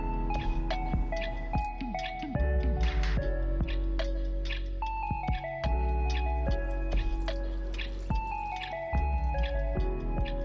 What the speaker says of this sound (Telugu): ఆ తర్వాత నీటిలో నుండి తీసివేసి చల్లని నీటిలో కడగాలి